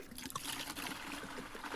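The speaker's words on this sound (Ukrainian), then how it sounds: "Все виливаю в загальну ємність і ще додаю води." Water trickles and splashes as it is poured into a garden sprayer's shared tank, a soft continuous dribble at low level with no talking.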